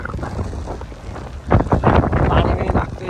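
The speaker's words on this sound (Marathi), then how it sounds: "अचानक भयानक वारा आलाय, खतरनाक हवा आहे" Strong, sudden gusts of wind buffet the microphone outdoors at a village cricket match, building into a louder roaring rush halfway through and holding steady to the end.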